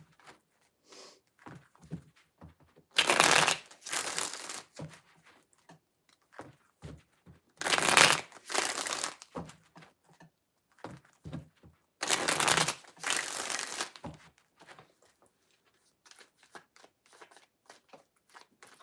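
Tarot cards being shuffled in three distinct bursts of rapid riffling, each a couple of seconds long, with quiet gaps and light handling noises between them.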